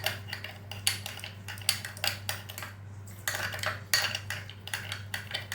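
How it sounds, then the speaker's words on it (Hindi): A metal spoon stirs sugar into cold milk for homemade khakhri biscuits, clinking repeatedly against the bowl in quick, irregular taps that stay close and clear, with no talking. "इस चीनी को अच्छे से इस दूध में हमें अच्छे से मिक्स कर लेनी है।"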